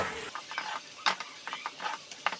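Chopped onion and capsicum frying in a pan, quiet close sizzle broken by repeated light scraping stirs and small clicks of a spatula.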